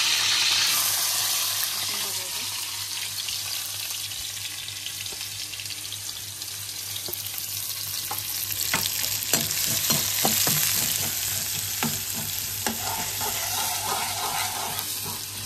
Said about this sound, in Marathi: आता मी बारीक कांदे टाकून घेतले